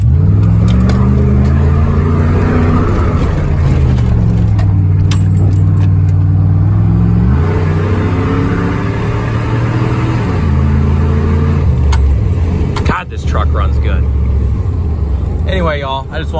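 A 2001 Dodge Ram 1500 pickup with a 318 Magnum V8 drives hard, its loud engine drone rising and falling through gear changes in a steady roar from start to end, with a voice talking over it.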